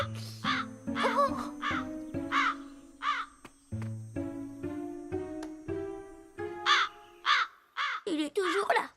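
A cartoon crow caws repeatedly in a rhythmic series of loud, nasal calls, some stretched and wavering, ending in a quick flurry of squawks.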